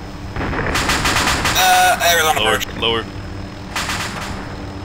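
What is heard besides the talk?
gunfire in the video game Arma 2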